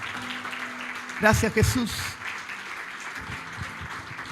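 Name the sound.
church congregation applauding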